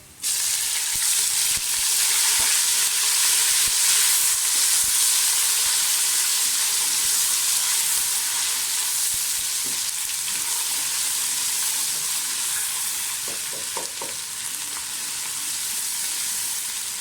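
Loud, continuous sizzle of garlic-ginger paste frying in hot oil with whole spices, with hissing steam and a few light stirring clicks throughout.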